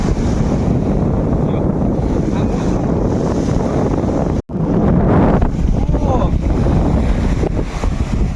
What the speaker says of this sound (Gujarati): મોજામાં મોજા જો આવી ગયા